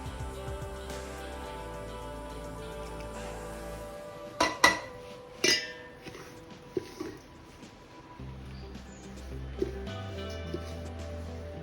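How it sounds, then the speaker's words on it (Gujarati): Hot oil being mixed into spices for a sweet jaggery mango pickle, a few close metallic clinks and scrapes of a spoon against a vessel over a steady low hum. "આ તેલ આપણે બધા મસાલામાં મિક્સ કરશું"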